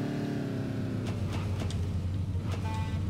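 A vehicle driving around tight corners in the Lego Batman 3 game, a continuous engine hum with a few sharp knocks and skids cutting through.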